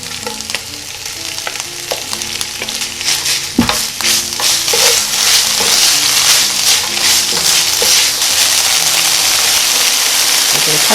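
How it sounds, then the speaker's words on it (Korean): Dried pollock strips stir-fry with seasoning in a little cooking oil, giving a loud, continuous crackling sizzle overlaid with scraping stirs and occasional clatters of a utensil against the pan. "북어채 양념 넣고 2~3분 정도만 볶아주겠습니다."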